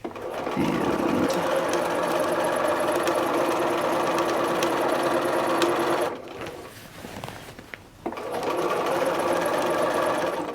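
A sewing machine runs steadily, stitching a hem, loud and close with a continuous mechanical whir, then pauses for about two seconds before starting up again; no talking.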